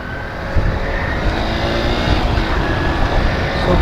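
Hero Splendor motorcycle engine idling and revving just after a service, a loud close rumbling drone with steady low pulsing, running alone without talk.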